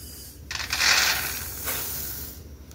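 Bajra millet grains being dry-roasted in a pan for thalipeeth flour, a soft continuous rattling scrape of grain stirred against the metal, swelling briefly near the start and then steady at moderate loudness, without speech.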